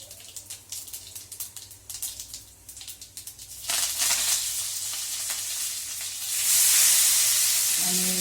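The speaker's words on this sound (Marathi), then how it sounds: "आता आपण लसूण टाकलेला आहे, त्याच्यानंतर मोहरी, जिरे" Garlic, mustard seeds, cumin and curry leaves hit hot oil for a dal tempering, first crackling and spitting in quick bursts, then a steady loud sizzling hiss that swells toward the end.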